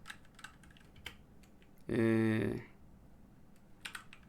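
Code being typed on a computer keyboard: a brief, loud burst of rapid keystrokes in the middle, with a few faint scattered clicks before and after.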